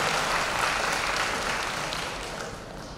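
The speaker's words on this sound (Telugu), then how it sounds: "మీరు కూడా కోరుకుంటే గట్టిగా గట్టిగా గట్టిగా చప్పట్లు కొట్టుకోండి సార్" A school annual day audience applauds loudly, a dense, steady wash of many hands clapping that eases slightly toward the end, with no voices over it.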